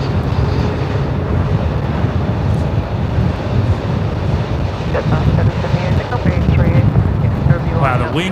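Strong wind roars steadily across the microphone at Melbourne Airport, a loud constant rushing that continues without a break, with faint aircraft noise underneath.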